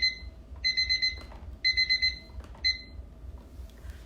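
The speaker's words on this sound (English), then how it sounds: "It's another timer." Electronic timer alarm ringing in bursts of rapid high beeping, four separate clusters spaced roughly a second apart, loud and close with no talk.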